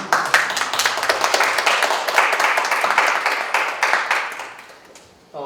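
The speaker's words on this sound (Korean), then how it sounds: "대한민국의 장애인 평생교육에 관심 있는 모든 사람들을 대신해서 우리가 박수 한번 보내드립니다" Applause from the audience at a Korean policy debate forum on a lifelong education law for people with disabilities: dense, steady clapping that stays loud for about five seconds, then thins and fades near the end.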